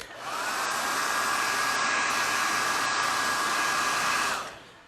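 A hair dryer blows steadily on wet paint on artwork, a loud continuous whoosh with a high whine that runs unbroken for about four seconds and then cuts off, with no talking.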